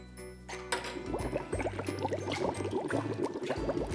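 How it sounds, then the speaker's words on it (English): Three paper clips dropped one by one into a container of water during a toddler sink-or-float activity, giving a run of small, close splashes and drips over a low background hum. "Let's see what happens if we put in the water."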